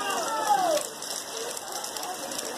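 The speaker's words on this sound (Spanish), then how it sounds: "A pesar de la lluvia." Steady rain hisses evenly throughout at an outdoor gathering in Siloé, with a brief high whistle-like tone early on.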